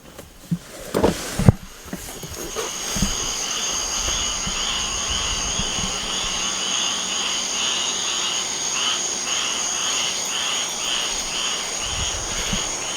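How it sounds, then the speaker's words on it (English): A steady chorus of night crickets and frogs outside a South Carolina hotel, a continuous pulsing trill, fills the air after a door opens, with a low hum beneath. "Lots of crickets and frogs, I believe."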